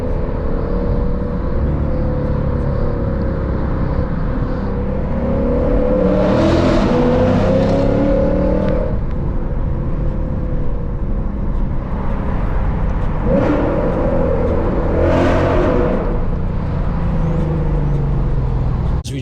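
A tuned, catless Lexus RC F drives through town traffic, its engine and exhaust loud and close, revving up and down through several throttle pulls and shifts.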